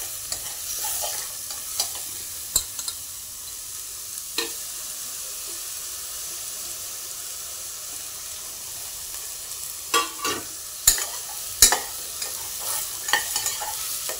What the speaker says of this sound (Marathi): आता हे फुलगे चांगले परतू घ्यायचे याच्यामध्ये थोडा वेळ